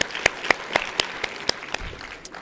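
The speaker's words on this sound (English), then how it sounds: "if we could give them all a round of applause" A conference audience gives sign language interpreters a thin round of applause: a handful of distinct claps at a fairly regular pace, quiet and somewhat distant, thinning out quickly.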